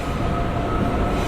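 Steady, loud rumble of a train in motion, continuous broadband rolling noise with a faint tonal hum, heard alone.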